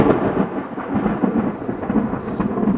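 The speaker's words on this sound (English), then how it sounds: "The sound we hear is thunder." Thunder from a lightning strike rolls as a loud, continuous low rumble with a rain-like hiss, steady for the whole stretch with no voices.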